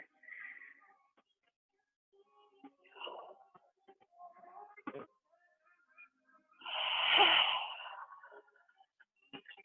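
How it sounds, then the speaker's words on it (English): Heavy, forceful breathing from a person doing a Pilates exercise, with a few short breaths and then one loud, sustained exhale near the end, close to the microphone. "Y'all just heard my heavy breathing"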